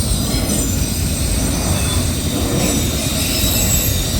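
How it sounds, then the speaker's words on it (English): A CSX freight train hauling autorack cars rolls steadily past close by, a loud continuous rumble with high wheel squeal layered over the top. "There's a bunch of vehicles in these autoracks."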